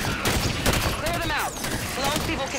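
Bursts of enemy gunfire in the shooter game Halo 5: Guardians, rapid overlapping shots with whizzing weapon effects, loud and continuous over the whole stretch.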